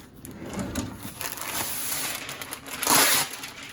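Parchment paper is handled in a kitchen while a lemon pound cake is being prepared: crinkling, rustling sheets with a louder crumple near the end, close by and without talking.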